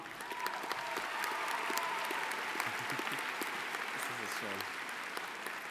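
A graduation audience at a high school ceremony applauds continuously, a dense steady patter of many hands clapping with a voice cutting in partway through.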